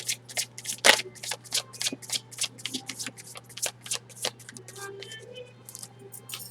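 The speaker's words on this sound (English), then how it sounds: "Seems to work a little bit better when I do an extra shuffle per each section." Playing cards being shuffled up close, a quick series of crisp flicks and riffles with soft taps, fairly quiet and with no one talking.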